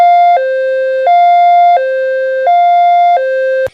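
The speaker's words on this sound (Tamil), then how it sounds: "அதாவது என்ன அப்படின்னா ஹை லோ சைரன் சவுண்டுங்க." A loud, close high-low ambulance siren alternates evenly between two pitched tones about every 0.7 seconds, running alone with no voices before cutting off abruptly.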